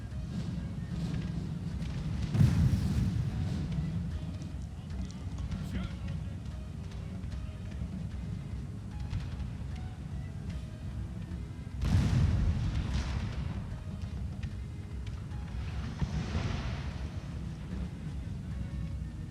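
Grapeshot artillery fires in a Napoleonic battle video game, France against Austria at Venetia, with two heavy booming volleys about ten seconds apart over a constant low rumble of battle and wind-like noise.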